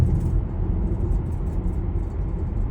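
A car drives along a residential lane past a school sports field, giving a steady close engine and road rumble throughout with no talk.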